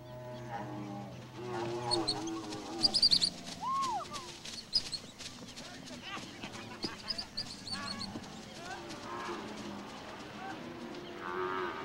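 Cattle on the open Pantanal grassland, several drawn-out moos from a herd at varying distances, with honking waterfowl calling in between and a quiet outdoor background, no one speaking.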